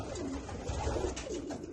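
Soft, low cooing from a healthy male pigeon repeats in a steady murmur, with a faint background hiss and no talking.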